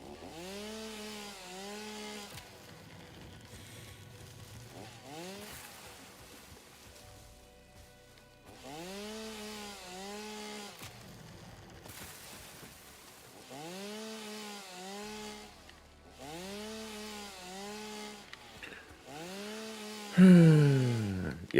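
A lawnmower engine in the PC game Lawnmower Simulator drones in repeated rising and falling revving cycles, with short gaps between passes and a louder burst near the end, heard alone without speech.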